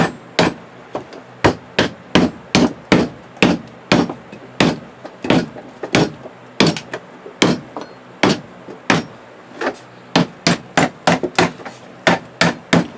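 A hammer drives nails into wooden honey bee hive frames in quick sharp knocks, dozens of close, loud strikes in uneven bursts with brief pauses between groups.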